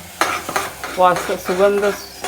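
Ground masala paste for Malwani chhole drops into a hot pan and sizzles as it is stirred, with close scraping strokes in short bursts and a voice murmuring briefly.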